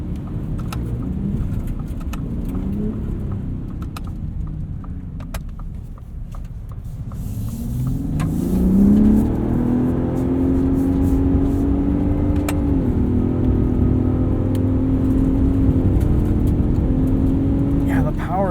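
A 2021 Ford F-150 Raptor 37 Performance Package truck on a dirt road, its engine droning and then revving up with a rising tone as it accelerates, heard from inside the cab beneath ongoing talk.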